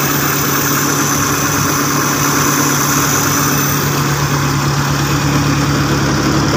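A motorcycle engine idles steadily with its battery held in place by wire instead of a clamp, a loud continuous rumble with a constant low hum and no talking.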